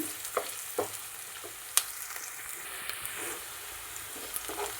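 Plantain pieces frying in oil for a curry, a soft, even sizzle with occasional pops and light stirring clicks, fairly quiet and steady.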